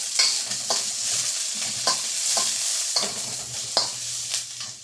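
Chicken bolognaise sizzles steadily on a hot wok while a utensil scrapes and stirs it in sharp, irregular strokes, loud and close with no talking.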